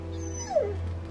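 A dog whimpers once in The Walking Dead Season 2 video game, a short falling whine rising over a steady low hum of game ambience, with no talk.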